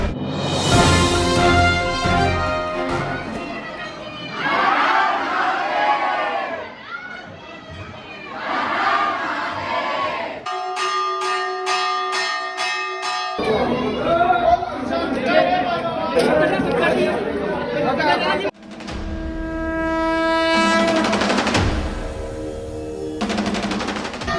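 Dense crowd of Kanwar pilgrims at Dudheshwar Nath temple on the first Monday of Sawan, a loud continuous wash of chatter and shouting voices, with bursts of music or chanting cutting through.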